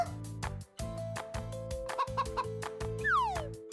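Repeated short clucking calls from a cartoon hen over a bouncy, looping cartoon-style musical backing, ending with a rising-falling whistle-like slide.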